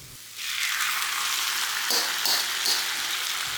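Salted fish and pork belly sizzle loudly in a hot wok after the scallion whites and shallots, a dense steady hiss of frying with a few brief scrapes of stirring near the end.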